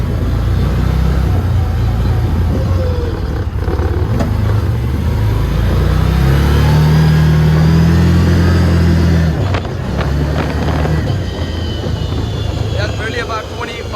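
Aodes Sportcross 1000 UTV engine running steadily while driving off-road in four-wheel drive, a loud continuous motor drone with shifting pitch, while someone talks over it.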